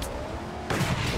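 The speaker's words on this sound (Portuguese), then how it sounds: "O tiro do sniper faz barulho, pelo menos, né?" A single sniper rifle shot in the Mad Max video game cracks out abruptly after a low rumbling background, a sharp, loud burst that fills the last half second.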